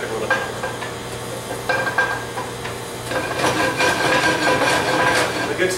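Meat sears in a hot pan with butter, giving a steady close sizzle punctuated by metallic pan clinks and stirring scrapes that grow busier toward the end.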